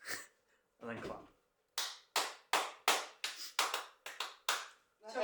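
A quick run of sharp hand claps marking a take, about nine crisp smacks in an uneven rhythm after a brief rustle, close and clear with no other sound between them.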